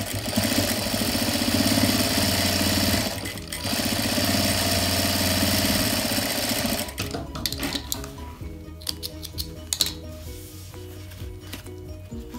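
Sewing machine stitching a seam on a fabric toiletry pouch, a steady close mechanical whir with a brief pause, then lighter intermittent running and clicks toward the end.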